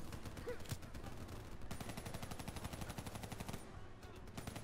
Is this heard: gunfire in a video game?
yes